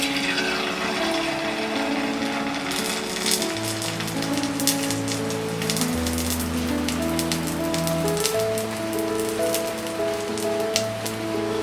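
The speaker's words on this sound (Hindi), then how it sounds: "अब हम इस साबूदाना को फ्राई करेंगे।" Sago pearls (sabudana) frying in hot oil, a dense steady sizzle and crackle throughout, with sustained musical tones playing underneath.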